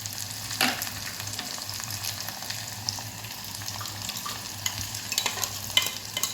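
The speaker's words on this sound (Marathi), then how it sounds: "यामध्येच आपल्याला टोमॅटो घालायचा आहे आणि लगेचच वाटण घालून घ्यायचं आहे" Tomato and masala paste fry in a pan over sautéed onion for a dill and moong dal bhaji, a continuous moderate sizzle with soft stirring scrapes and small clicks of a spoon.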